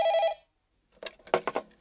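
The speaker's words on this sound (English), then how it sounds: "One morning in August, Joanna answers the phone" A telephone in a doctor's office gives a single short electronic ring that stops abruptly, followed by a brief spoken phrase after a pause.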